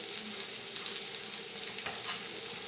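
Cabbage burger mixture frying in a pan, a soft continuous sizzle and hiss at low level, steady throughout with no talking.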